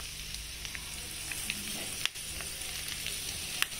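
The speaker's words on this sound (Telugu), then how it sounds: "బాగా వేగనిద్దాం దీన్ని." Cumin seeds fry in hot oil in a pot, giving a steady, dense sizzle with occasional small pops and one stirring clunk, heard close and alone.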